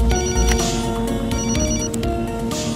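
A phone rings continuously with a bright electronic tone in a Hindi-dubbed action movie, steady and fairly loud over a dense, noisy background.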